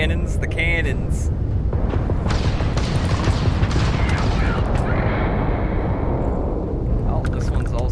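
Spaceship cannons fire in Starfield, a dense, continuous barrage of booming, blasting shots layered with game effects, loud and sustained throughout, with a voice talking over parts of it.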